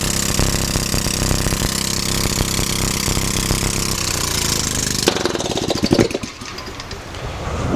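A loud hydrogen-fuelled engine runs steadily with a rough, rapid firing rhythm, then shifts abruptly into sputtering revs with sharp pops near the end.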